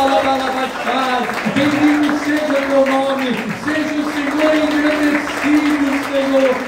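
A church congregation claps steadily through worship while voices sing over it, the dense applause holding at a near, loud level for the whole stretch.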